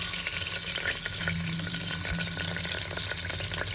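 Onions going into hot oil for mutton curry, giving a loud, dense, continuous sizzle and crackle with a watery, rushing texture, close by and without pause.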